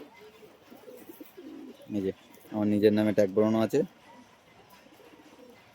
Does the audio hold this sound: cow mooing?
no